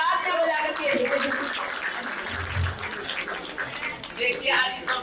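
Audience clapping in thanks at a trust assembly's birth-anniversary celebration at Ludhiana's Mani Lakshmi Dhaam, a steady wash of hands at moderate level with some voices and a low thump mixed in.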